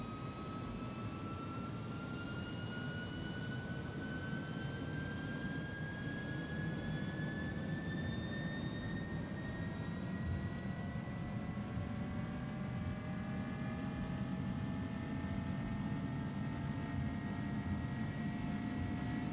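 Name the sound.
Airbus A300 jet engines at takeoff thrust, X-Plane 11 video game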